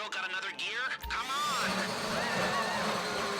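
An electric drill grinds steadily against a metal safety deposit box during a bank vault heist in the video game GTA 5, with a continuous whirring whine running loud and close throughout, punctuated by brief scraping shifts in pitch.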